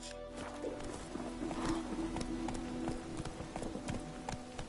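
In The Witcher 3, the horse Roach trots along with a rapid, steady clip-clop of hooves close by, the footfalls running continuously at moderate volume.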